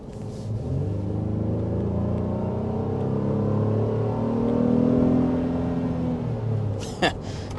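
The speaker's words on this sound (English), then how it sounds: "you'll recognize the sound of a V6 engine as well" The 3.5-liter V6 engine of a 2023 Honda Pilot TrailSport hums and builds in pitch as it accelerates, a steady rising drone with smooth harmonics, ending with a short click.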